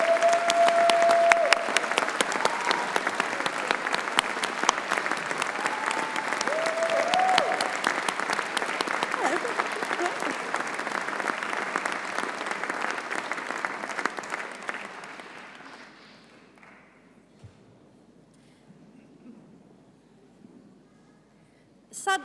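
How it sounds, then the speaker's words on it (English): Graduation audience at a BCU ceremony applauding loudly and steadily for about fifteen seconds, the clapping then fading to quiet room noise. "join me in giving them a well-deserved round of applause"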